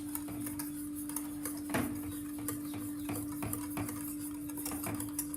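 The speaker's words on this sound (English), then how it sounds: "we are going to add the sugar, which is according to your taste, and again whisk it" A whisk stirs custard with added sugar in a bowl, producing steady, rapid clinking and scraping close by, with brief louder knocks against the bowl and no talking.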